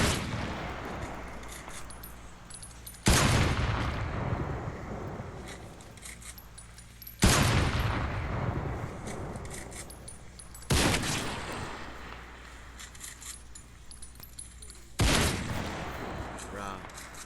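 MP5 gunfire in the Minecraft video game comes as four loud sharp bursts spaced a few seconds apart, each trailing off, with quieter game noise between them and people talking at times.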